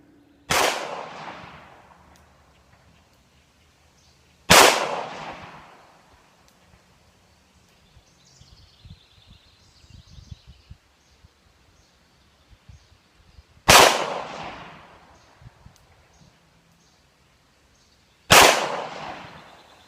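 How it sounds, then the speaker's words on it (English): Four loud, sharp shots from a Ruger Match Champion revolver crack out at an outdoor shooting range, widely spaced, each followed by a brief ringing decay, with faint rustling between them. "I'm going to go down to the shooting range and shoot this"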